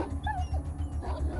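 Dog in the Atom RPG video game whimpering and yipping while under attack, short pained cries over a steady low game ambience.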